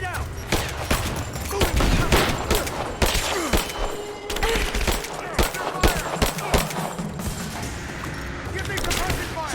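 Dense in-game gunfire from a firefight in Rise of the Tomb Raider, with continuous bursts and sharp reports, some heavy booms, loud and close throughout, while soldiers shout over the shooting.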